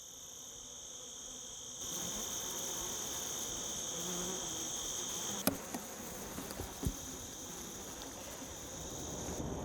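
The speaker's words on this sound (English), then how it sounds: "crazy interesting to get inside of a hive and see the bees and see how it all works" Honey bees swarm around a beehive at a Michigan meadery, giving a steady, dense buzzing drone throughout with a couple of brief knocks partway through; no one talks.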